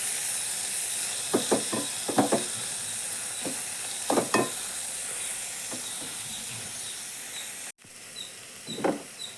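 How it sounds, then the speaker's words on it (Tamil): Onion, carrot and beans sautéing in a pan, a steady close sizzle with bursts of stirring scrapes and clatter throughout, no voices. "வதங்கிருச்சு வெங்காயம், கேரட், பீன்ஸ்லாம்."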